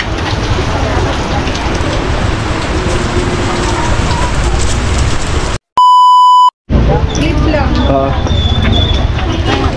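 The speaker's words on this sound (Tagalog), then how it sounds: "Medyo umuulan pa po." Steady rain patters densely on surfaces at Lake Buhi, interrupted midway by a loud, pure electronic beep lasting about a second, then the rain continues.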